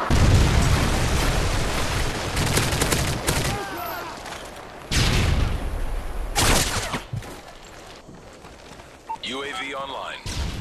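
Repeated booming blasts and gunfire in a Call of Duty: Modern Warfare 3 Domination match on the Gulch map, loud and close in several bursts with quieter gaps, voices chattering throughout.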